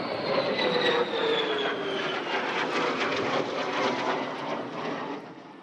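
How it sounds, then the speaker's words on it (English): An F-35 fighter jet lands at Marine Corps Air Station Miramar, its loud, steady engine roar sustained close by, with a whining tone that slowly falls in pitch before fading slightly at the end. "the first F-35 fighter jet touched down at Marine Corps Air Station Miramar"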